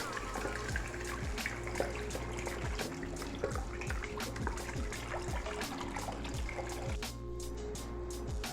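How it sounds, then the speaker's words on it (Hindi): Roughly two litres of milk pours steadily into rice that was roasted in desi ghee for kheer, making a continuous close liquid splashing and trickling sound with no talking. "अब इसके अंदर मैं 2 लीटर के करीब दूध डाल दूंगी"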